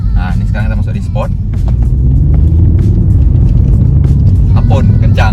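A Mini Cooper Red Hot Edition accelerates in sport mode, its engine building into a loud, steady rising drone under the cabin, while people talk excitedly inside the car over the engine.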